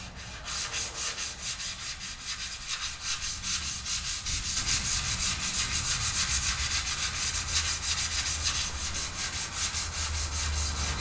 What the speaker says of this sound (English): So I'm just going to do a little bit of light sanding on it,